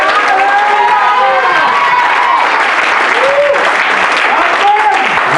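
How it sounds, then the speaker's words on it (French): A church congregation applauds and cheers loudly and continuously, with scattered shouts and voices rising above the dense clapping throughout. "On peut acclamer le Seigneur."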